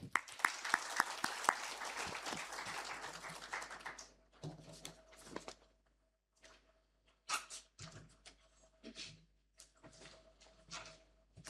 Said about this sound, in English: With a big round of applause, please welcome to the stage our honorable chief guest